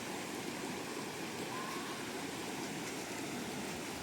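Waterfall at Phu Wua Wildlife Sanctuary in Bueng Kan, Thailand, a steady broadband rush of falling water, continuous and moderately faint, with no speech over it.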